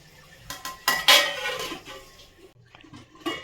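Dum aloo potatoes are stirred in a metal cooking pot, giving a few loud close scraping clanks of a spoon against the pot, then softer shuffling and a final clink.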